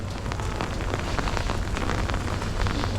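Heavy rain falls in a dense, constant patter and drums loudly on nearby surfaces, with no voices over it.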